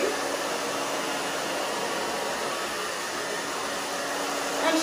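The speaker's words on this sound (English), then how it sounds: "so for a minute I'm going to dry this way just to give it some extra body." Handheld hair dryer blowing steadily on a short bob haircut, a continuous close, even airy roar with a whining motor that holds for the whole stretch.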